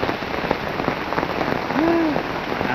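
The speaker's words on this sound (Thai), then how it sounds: "เจอฝนตกเลยเจอพายุ" Rain falls steadily in a forest during a storm, a dense, even patter of drops close by, with a brief faint tonal call rising and fading partway through.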